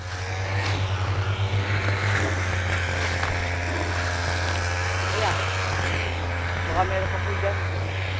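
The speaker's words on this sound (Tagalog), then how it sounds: "Nagpapagas cutter po ako at nagpapahukay." A gas-powered grass cutter drones steadily in a pumpkin field, its low engine hum constant in the background while a person talks over it.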